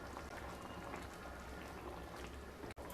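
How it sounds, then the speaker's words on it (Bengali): Maggi soup boils in water with butter added, giving a steady dense bubbling and popping that stays constant and close, with a short dip near the end. "জল দিয়ে 1 মিনিট মতো খুব ভালোভাবে ফুটিয়ে নেব।"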